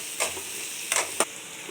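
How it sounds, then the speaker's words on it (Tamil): Onion, ginger and chilies frying in oil for vegetable upma, with three brief scraping stir strokes over a soft steady sizzle, close and alone. "இப்போ ஆனியன் நல்லா ஃப்ரை ஆயிடுச்சு."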